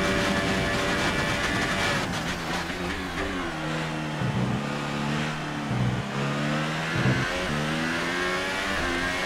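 An F1 car engine in the F1 2018 racing game, qualifying at Suzuka in Japan, revs up through rising gear-shift pitches, dropping briefly at each upshift before climbing again, loud and continuous throughout.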